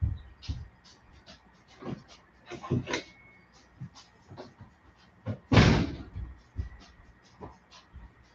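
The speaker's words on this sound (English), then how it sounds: "I'm going to close the door because it's getting cool" A door being shut in a yoga studio, one loud thud standing out among scattered softer knocks and shuffling sounds, fairly close in a quiet room.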